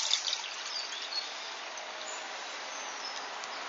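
Tap water pouring steadily into the small pot of an Esbit solid-fuel stove, a continuous hissy trickle heard close and alone for a few seconds.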